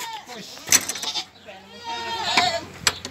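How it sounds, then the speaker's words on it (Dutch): A goat bleats a few times close by at a children's farm, wavering cries mixed with people chatting nearby. "Ineke is mijn favoriete geit."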